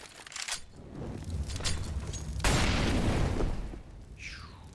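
A grenade explodes in a video game, one heavy, rumbling boom that swells and then fades, preceded by softer thumps and followed by a brief whoosh.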